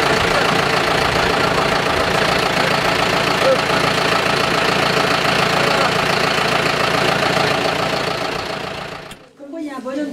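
A tractor engine used for harvesting wheat runs loud and close with a steady idling chug that persists throughout, cutting out abruptly near the end.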